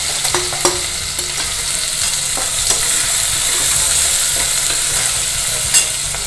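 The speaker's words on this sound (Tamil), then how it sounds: "வெங்காயம் நல்லா வதங்கிடுது" Onion sautés in a pan with ginger, garlic and green chilli paste and turmeric: a loud, continuous sizzle broken by occasional sharp clicks of a spatula stirring against the metal, with no talk.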